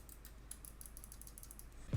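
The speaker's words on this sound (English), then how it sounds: "So here's the left click, the right click, the scroll wheel scrolling, clicking, and the front and back side buttons." Light, sharp clicks from a Finalmouse Starlight-12 gaming mouse, covering its buttons, scroll wheel and side buttons, tap in an irregular series at close range over faint background hiss, ending in a low thump.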